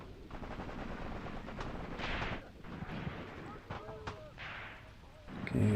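Dense, continuous rumbling gunfire and distant bursts from the Graviteam Tactics war game roll on without pause, machine gun fire blending into a steady, moderately loud battle din.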